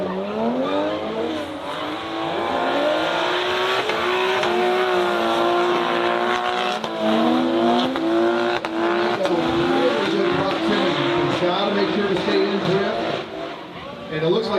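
A drift car in a competition run drives up through the initiation cones into a dirt drop, its engine loud and continuous with rising and falling revs and tire noise, under constant commentary talk.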